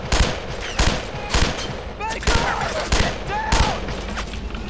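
Rapid bursts of automatic gunfire and rifle shots in a World War II squad shooter set around Vierville, loud and close, coming in repeated volleys with brief gaps and shouted combat orders mixed in.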